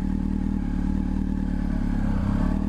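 A motorcycle pulling away downhill in first gear on light throttle, its engine holding a steady, close, low idle-like thrum with a slight rise near the end and no voices.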